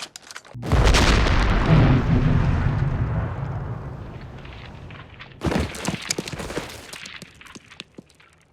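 A grenade blasts in a film scene with a loud, deep boom that rolls and slowly fades over several seconds, followed by a rattle of falling debris and scattered impacts.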